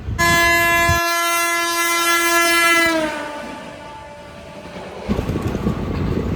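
A loud, sustained passenger train horn blares for about three seconds and fades, followed by the rumble and clatter of the train starting to move out of Sanosara station.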